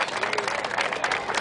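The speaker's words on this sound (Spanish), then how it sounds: "recibirle todos y todas con un fuerte aplauso" A short burst of crowd applause at a National Police community event in San Luis with sports and a music band, dense clapping mixed with murmuring voices for a brief moment.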